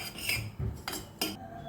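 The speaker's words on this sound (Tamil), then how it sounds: "1 கப் ரவை போட்டு நல்லா செவக்க வறுத்துக்குருவோங்க." A spoon scrapes and stirs a cup of semolina as it dry-roasts in a pan with raisins for mango kesari, giving about four short, close metallic scraping strokes against the pan.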